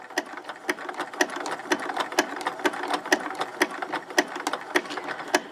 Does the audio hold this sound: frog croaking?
no